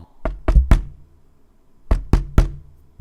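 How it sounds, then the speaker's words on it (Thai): Knocking on a room door, two bursts of three firm raps each separated by a pause, close and loud, with nothing else heard. "เพื่อรอฟังเสียงเคาะห้องอีกรอบ"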